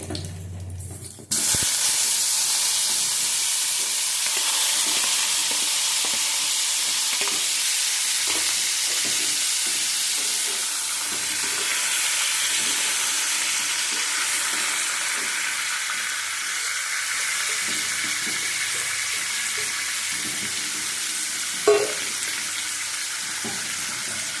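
Potato and papaya pieces frying together in a pan of oil for a vegetarian curry, a loud steady sizzle that runs without a break from start to finish after a short quiet opening.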